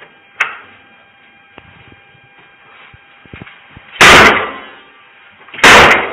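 Police forcing the door of a home in Milwaukee, Wisconsin: two heavy, loud booming impacts a second and a half apart after a sharper knock-like thud, with faint creaks and a low hum between them and no talk.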